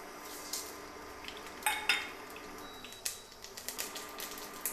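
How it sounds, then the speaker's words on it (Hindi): Mustard seeds and bay leaves dropped into hot oil in a pan while cooking lauki sabji, giving quiet crackling and sharp spitting pops scattered irregularly, with a faint clink or two and no talking. "मैं अभी ये सरसों और तेज पत्ता डाल रही हूँ।"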